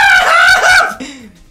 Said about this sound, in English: I shall scream for help!